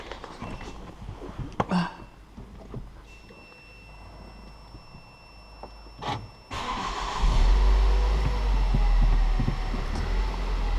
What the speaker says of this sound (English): Always sounds so well when you start this car.